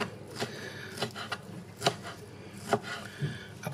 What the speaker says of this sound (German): aber vorher schneiden wir noch die Paprika und die Paradeiser.